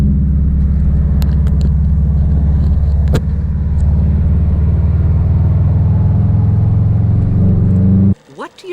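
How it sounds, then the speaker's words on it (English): A car pulling hard on a highway, its engine a loud, continuous low rumble that holds steady for several seconds before cutting off abruptly near the end. "Do a quick little highway pull."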